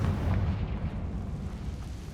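Confringo fire spell blasting in Hogwarts Legacy, a dense, loud, rumbling explosion whose heavy low boom rolls on for about two seconds without fading.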